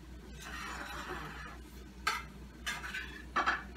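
Sliced yellow squash, cut about a quarter inch thick, goes into a skillet and is stirred with a utensil. The scraping is soft and steady, with a few louder clinks toward the end and no voices.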